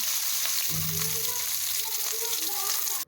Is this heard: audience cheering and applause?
no